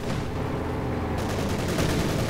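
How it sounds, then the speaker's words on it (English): A Panzer IV tank fires high explosive rounds in a Company of Heroes 2 battle: a dense, loud, unbroken barrage of booming shots and blasts that crowds out all other sound. "Supply sector Panzer IV blasting away, high explosive rounds flying through the air"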